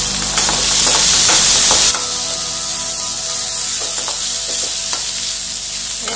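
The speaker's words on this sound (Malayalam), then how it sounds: "ചീനച്ചട്ടി നന്നായി ചൂടായി കഴിഞ്ഞു, ഇതിലേക്ക് ഇഞ്ചി, വെളുത്തുള്ളി, പച്ചമുളക് ഒക്കെ ചേർത്ത് നന്നായി മൂപ്പിച്ചെടുക്കണം." Ginger, garlic and green chillies hit a hot wok with a loud, bright sizzle for about two seconds. The sizzle then settles into a softer, steady frying hiss with occasional stirring scrapes.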